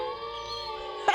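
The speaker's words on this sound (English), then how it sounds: "There is a howl." A drawn-out, steady canine howl in the werewolf-themed game The Beast Within: A Gabriel Knight Mystery, sustained and fairly loud with rich layered tones, ending in a brief sharp burst.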